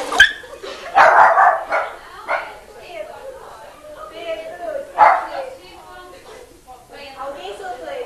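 A dog barks in several sharp bursts, loud and close, mixed with yips and whimpers, while someone speaks over and between the barks.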